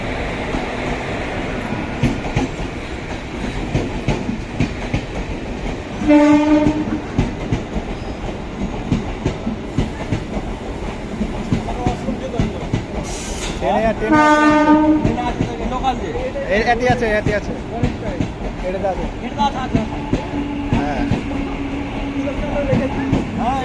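A train at a railway level crossing, a loud rumbling pass with clickety-clack and two long horn blasts, close by, with background noise throughout.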